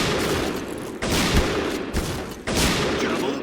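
Sniper rifles such as the Kar98K, DSR-1 and SSG-69 fire in the online shooter Point Blank, with three loud, close gunshots about a second apart, each trailing a long roar.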